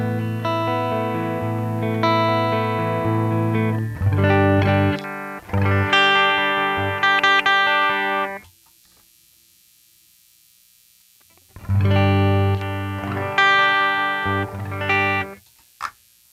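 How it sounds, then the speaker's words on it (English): A Quad Cortex guitar amp played with no cabinet gives harsh, buzzy, fizzy distortion in loud strummed bursts, cut by a silent gap of about three seconds before playing resumes. "So this is what an amp sounds like with no cab attached."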